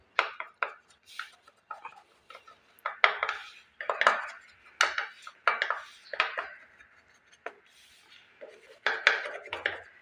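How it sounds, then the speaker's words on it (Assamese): A spoon spreading and levelling a coconut sweet mixture on a plate, giving repeated close scraping and tapping strokes of metal on the dish in irregular bursts with short pauses. "চামুচ এখন লৈছোঁ, চামুচখনেৰে এইদৰে সমান কৰি ল'ম।"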